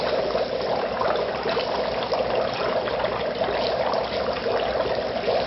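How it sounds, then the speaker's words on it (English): Water rushes steadily through an aquarium canister filter intake and return assembly, a continuous close trickling wash with bubbling from the outlet, no voices. "Water's rushing."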